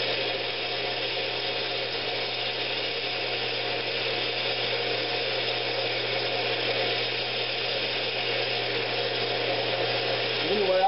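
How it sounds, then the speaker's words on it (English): A wooden Christmas ornament spins on a lathe while being hand sanded, giving a continuous, loud rasping hiss over a steady motor hum with no break. "go through and sand everything up really good"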